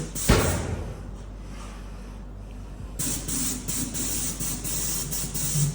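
A spray painting machine coating a ship starts partway through with a loud, steady pressurised hiss, after an earlier sharp bang and a stretch of quieter background noise.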